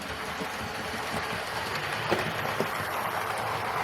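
A Dapol Hinton Manor model locomotive, a Great Western engine, runs around a model railway track with a soft, steady rolling rumble and a couple of light clicks from the rails, fairly quiet and close.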